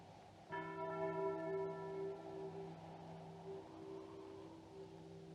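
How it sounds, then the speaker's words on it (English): A single church bell in a 1970 Western film strikes once and rings out with a long, resonant hum that slowly fades, heard alone and at a distance against quiet surroundings. "stop that bell ringing"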